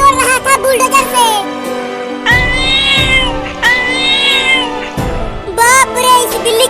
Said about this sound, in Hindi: अरे अभी ये इतनी बड़ी बिल्ली कहाँ से आ गई?